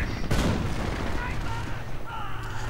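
A 280mm rocket barrage in Company of Heroes opens with a heavy burst of booming rocket fire that settles into a rumbling roar of distant impacts, with a voice likely heard alongside.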